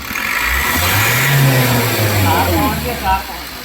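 A car engine revs up hard, its pitch rising then easing back, close and fairly loud, with a voice talking over it, in a car repair training session testing sensors with a multimeter.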